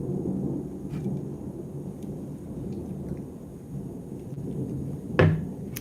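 Thunder rumbles low and steady during a Florida night thunderstorm over rain on a lanai, capped by one sharp, louder crack near the end; no one speaks.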